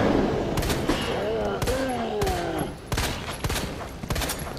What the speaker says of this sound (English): we're just gonna use a pistol